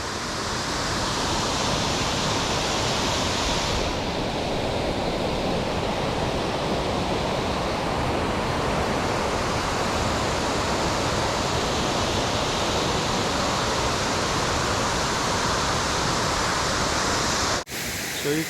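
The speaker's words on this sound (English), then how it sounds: "Okay, this is called Virgin Falls." Virgin Falls, a waterfall with a 110-foot drop, gives off a loud, steady, broadband roar of falling water that holds constant throughout before a brief disturbance near the end.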